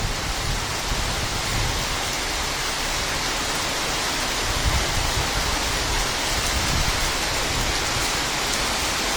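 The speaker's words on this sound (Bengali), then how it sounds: "আহা কি বৃষ্টি" Heavy rain heard from a balcony, a dense unbroken roar of downpour across the whole stretch, loud and close with no pauses.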